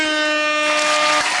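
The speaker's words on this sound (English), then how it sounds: "Let me get air horn for that." A loud air horn blares a single sustained, brassy tone, cutting off partway through, followed by a burst of noisy rumble.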